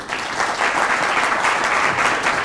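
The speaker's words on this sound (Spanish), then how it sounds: "le damos inicio al conversatorio Han Kang, Literatura y Humanidad. Un fuerte aplauso." An audience at a book fair talk in Peru applauds, a steady, moderately loud wash of clapping hands lasting a couple of seconds with no speech over it.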